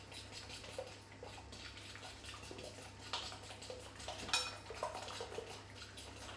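A fork stirs wet muffin batter of banana, cacao and coconut oil in a bowl, making quiet, irregular clinks and scrapes against the bowl with soft wet sloshing between them.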